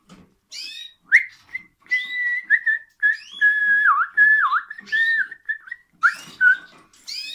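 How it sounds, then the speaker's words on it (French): A person whistles close by to a pet male cockatiel, a series of clear sustained notes and sliding warbles broken by short pauses, with faint bird-like chirps between phrases. "Quand je sifflote, il y a des moments où il s'amuse à danser."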